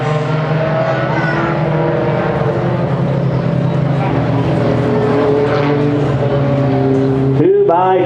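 Pro 4 race trucks at Evergreen Speedway, a field of four on a short oval, drone together in a steady, layered engine roar throughout, with a brief change near the end as they pass close.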